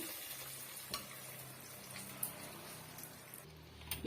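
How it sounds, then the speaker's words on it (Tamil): A spoon stirs a hot tempering into mashed brinjal kadaiyal, giving faint, soft scraping and gentle sizzling that runs steadily throughout, with a few light clinks against the pot. "இப்போ இந்த தாளிப்பை சேர்த்துடலாம் சேர்த்துட்டு நல்லா வந்து இது மாதிரி மிக்ஸ் பண்ணி கொடுத்துக்குங்க"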